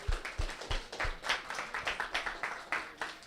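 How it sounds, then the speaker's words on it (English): Applause from a small gamedev meetup audience: about a dozen steady, evenly spaced claps close by, with a crowd clatter underneath and no talking. "Let's applaud."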